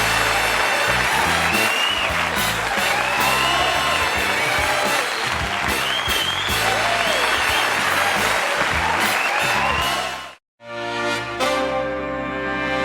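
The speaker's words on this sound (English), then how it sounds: "I'm humbled by that applause." A studio audience on a late-night talk show applauds loudly and continuously for about ten seconds, then stops abruptly, followed by a brief quieter tail.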